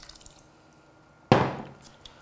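A splash of water poured into a pot of Tunisian asida, a sudden close wet gush that fades quickly after a quiet lead-in with faint background clatter.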